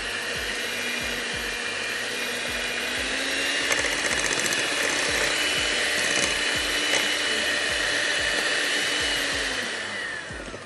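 An electric hand mixer whirs steadily while beating sugar, butter and eggs in a bowl, close and loud, with beaters rattling and knocking against the bowl throughout and no talking.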